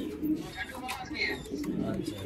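A pair of white-eyed Turibaz pigeons, a white male and a red-streaked female, give soft, repeated coos close by, partly under a man's speech.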